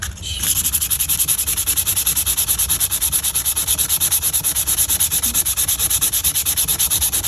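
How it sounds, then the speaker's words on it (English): A scout knife blade is rubbed back and forth on a coarse abrasive lubricated with 3-in-1 oil, making a steady, rhythmic, close scraping that repeats evenly throughout, with no talking. "I'm gonna put some 3-in-1 oil on it. Help lubricate it as we're polishing it."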